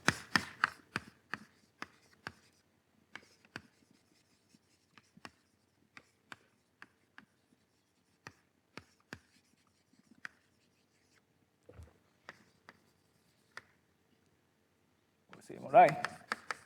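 Sparse taps and scratches of writing on a board during a mathematics lecture on Witt vectors and prisms, scattered and faint with long quiet gaps, ending in a brief rustle.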